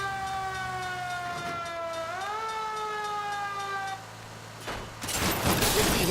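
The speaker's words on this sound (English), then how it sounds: "Did we hit the siren, Phelps?" Police car siren in L.A. Noire, a steady wailing tone that rises in pitch partway through and runs continuously until a harsh burst of noise at the end.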